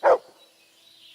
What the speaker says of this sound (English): Aye, aye, you silly doggy.